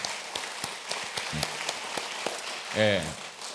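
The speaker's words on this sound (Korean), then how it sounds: "정말 여러분들 힘내자고 박수 한번 각자 칩시다." A church congregation applauds with scattered, sparse claps rather than a dense roar, while a voice briefly speaks over them.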